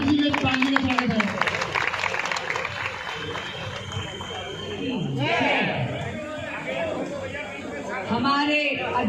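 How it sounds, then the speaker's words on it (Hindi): Crowd clapping to welcome a speaker at the inauguration of an election campaign office, loud and sustained, with chatter and voices over it. "एक बार जोरदार तालियों से फिर से बहन जी का स्वागत है।"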